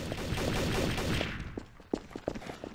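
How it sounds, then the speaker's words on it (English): Bursts of gunfire in Garry's Mod Trouble in Terrorist Town, a rapid volley up front that gives way to a few separate, sharper shots, moderately distant and unaccompanied by talk. "I just heard shots"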